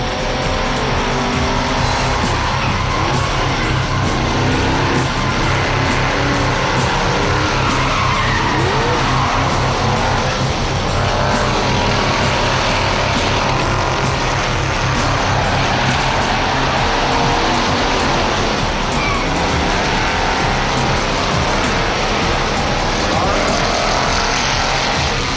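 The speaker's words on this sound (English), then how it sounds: "Don't forget, in order to pass a car, you've got to hit it. Whoa, there we go. That means spin-outs and more spin-outs." Race cars in a demolition race skid, squeal and roar through a loud continuous din of engines, with scraping spin-outs and crashes throughout.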